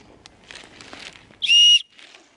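A single short, loud, shrill whistle blast from a small whistle clipped to a survival kit alongside a compass, alone against a quiet room after some faint handling noise.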